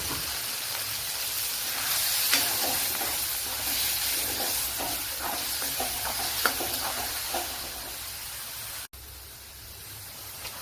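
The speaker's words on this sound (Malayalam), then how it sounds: "ഇനി അരച്ച് വെച്ചിരിക്കുന്ന അരപ്പ് ചേർത്ത് കൊടുക്കാം." Ground spice paste hits a hot pan with softened tomatoes for a quail egg curry, giving a steady hiss and sizzle with light stirring before a brief cut near the end.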